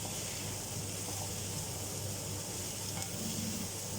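Potatoes fry in a pan with a steady, close sizzle and crackle of hot fat, unbroken and even throughout with no talking.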